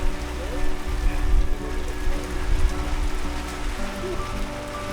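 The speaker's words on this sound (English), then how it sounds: "It seems like it's pouring rain." Heavy pouring rain drumming steadily on surfaces, a constant wash of noise with low rumbling underneath and faint tones, under occasional talk.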